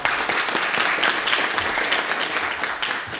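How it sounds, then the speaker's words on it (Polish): A crowd at a campaign event presenting candidates for the Biała Podlaska municipal council bursts into sustained applause, dense overlapping clapping that holds steady for several seconds before easing slightly. "Jeszcze raz bardzo prosimy o wielkie brawa."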